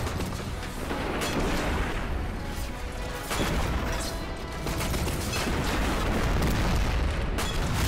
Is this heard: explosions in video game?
yes